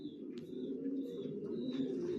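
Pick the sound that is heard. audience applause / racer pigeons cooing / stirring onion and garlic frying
racer pigeons cooing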